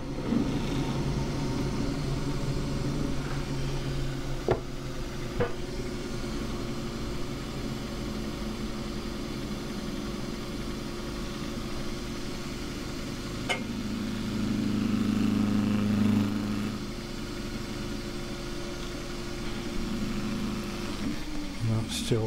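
A wood lathe spins a 3-inch square box elder bowl during finishing with grit and beeswax. It gives a steady low hum throughout, with a few faint ticks and a slightly louder stretch partway through.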